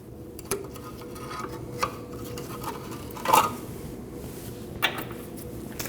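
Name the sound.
pulling cotter pin out of Subaru Forester tie rod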